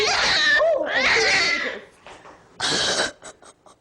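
An angry cat yowling at a cat show, loud harsh drawn-out cries in a few bursts with short pauses between them.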